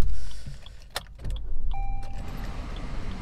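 Maruti Baleno Delta 2024 car starting up, with a short cranking burst followed by a steady idle hum, heard from inside the cabin on a hot day.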